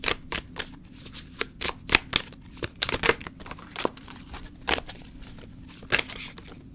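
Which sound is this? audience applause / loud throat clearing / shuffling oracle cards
shuffling oracle cards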